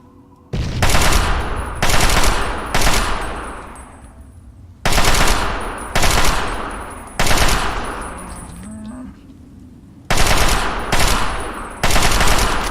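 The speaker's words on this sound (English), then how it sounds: "He's completely ignoring me shooting him, which is kind of rude." Loud, close bursts of rapid automatic gunfire aimed at a Deathclaw in Fallout 3. Several sustained volleys are separated by short pauses, and each burst trails off into a fading echo.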